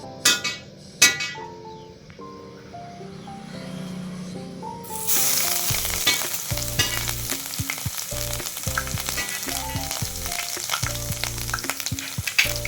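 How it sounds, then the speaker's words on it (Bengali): Ginger paste hits hot oil and bursts into a loud, steady sizzle that continues throughout, with clinks and scrapes of a utensil against the pan while cooking ghugni. "1 চা চামচের মতো আদা বাটা দিয়ে দেবো এই তেলের মধ্যে।"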